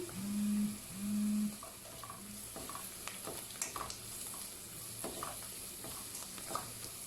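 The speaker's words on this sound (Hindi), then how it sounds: "इसे अच्छे तरीके से भून लूँगी ताकि लहसुन की स्मेल ख़त्म हो जाए।" Soft sizzling of garlic frying in a pan with stirring and scraping sounds, plus two short low hums early on; quiet and close, no talking.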